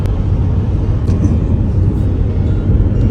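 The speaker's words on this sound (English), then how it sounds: "One truck going on." A truck on a mountain road in California after a winter storm, heard as a loud, steady low rumble of engine and road noise, close by and continuous.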